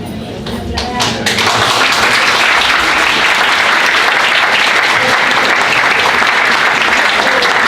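After a talk on food allergies by a biologist, a brief voice gives way to loud, dense audience applause that starts abruptly and carries on evenly for several seconds.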